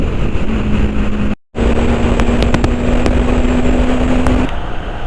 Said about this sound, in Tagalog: Grabing hangin yun